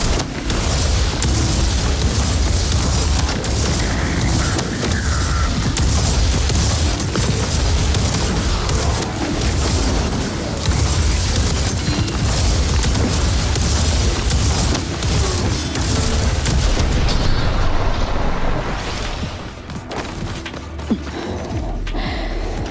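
Alt-fire explosions in the video game Metal Eden form a dense, loud, continuous wall of booming blasts and mechanical rumble, thinning out briefly near the end.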